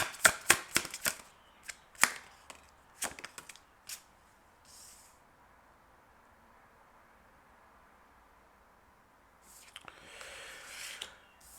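Tarot cards shuffled by hand close up, a string of quick soft riffling snaps and flicks at the start, then near silence before faint rustling returns toward the end.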